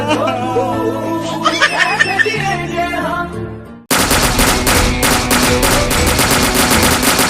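A fast, loud burst of rapid-fire gunfire rattles on continuously for several seconds, coming suddenly after a stretch of laughter and music-like tones.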